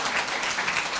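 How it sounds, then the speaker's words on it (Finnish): A short burst of applause from an audience at a project kickoff event, a dense, steady patter of many hands clapping for about a second. "Eikö vaan anneta aplodit?"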